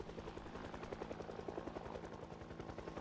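Rotor thumps from a helicopter flying over in Project Zomboid chop rapidly and evenly over a continuous low drone, quiet and unbroken throughout with no voices.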